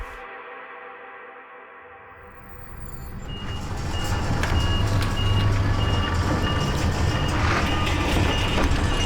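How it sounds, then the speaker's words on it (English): An armored transport truck backs up with a steady run of reversing beeps over a loud engine rumble, growing heavier partway through and continuing to the end. "Miss Lattice, the armored transport has arrived."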